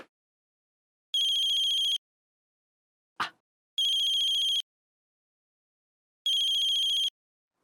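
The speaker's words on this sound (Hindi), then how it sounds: "घंटी बजी" A household telephone rings three times at night, each ring a bright, steady electronic trill about a second long with pauses between. A single sharp click falls between the first two rings.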